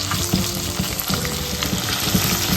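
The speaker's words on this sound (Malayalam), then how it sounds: "നമ്മുടെ സബോള ഒന്ന് വഴറ്റി വന്നിട്ടുണ്ട് കേട്ടോ" Chopped onion and mustard seeds fry in oil for a Sri Lankan okra curry, giving a steady loud sizzle broken by repeated scraping and clinking as a spoon stirs the pan, with no talking.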